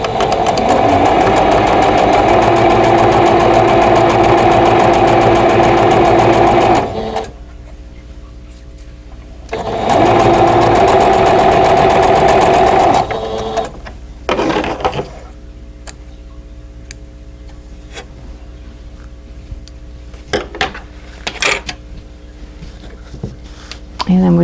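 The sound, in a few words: sewing machine stitching quilt block seam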